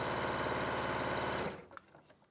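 Sewing machine stitching fabric quickly, a rapid loud mechanical whirr that runs steadily for about a second and a half, then stops, followed by a few faint clicks.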